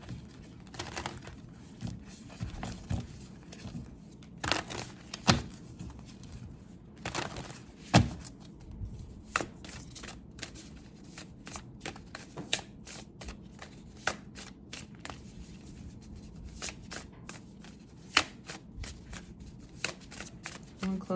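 An oracle card deck, the Motivation Manifesto, is shuffled for about twenty seconds, steady papery riffling and crinkling broken by sharper slaps and taps as the cards are squared, close and fairly loud with no voices.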